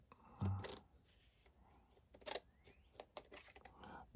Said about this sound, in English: Keeping my scissor blade right next to the plastic, which assists me in my cut.